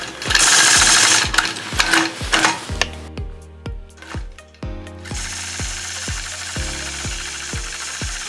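A domestic sewing machine stitches straight quilting lines guided by rulers on a modern medallion quilt, its steady rapid needle clatter running close and continuous with short pauses and restarts, no talk over it.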